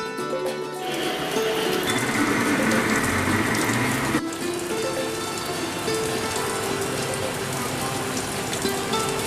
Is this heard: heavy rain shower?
yes